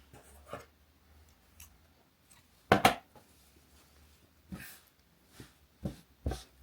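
Scissors snip knitting yarn after a crocheted chain is drawn up on a motif children's cardigan, a couple of sharp, close cuts standing out among quiet handling rustles, with no talking.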